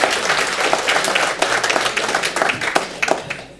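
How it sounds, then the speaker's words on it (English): Brisk audience applause from a public meeting crowd, dense clapping with sharp individual hand claps popping out, sustained steadily throughout at moderate loudness. "So I've let you applaud, and I will let you applaud"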